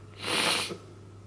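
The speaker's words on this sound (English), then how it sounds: "But now I'm sneezing." A single sharp sneeze, close and fairly loud, rising quickly and fading within a second.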